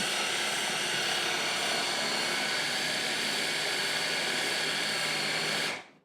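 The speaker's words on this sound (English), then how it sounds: "got to help it because the grinder is really at the bottom. Pretty strong motor." A strong motor grinder churning peanuts into crunchy peanut butter gives a loud, steady whirring roar that runs without a break, then cuts off abruptly just before the end.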